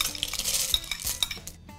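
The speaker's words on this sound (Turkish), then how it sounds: "İkisi birlikte güzelce eriyene kadar ara sıra bu şekilde karıştırmaya devam edeceğiz." A spoon stirs chocolate and butter melting in a bowl over simmering water, scraping and clinking against the sides in a few close, uneven strokes with no voices.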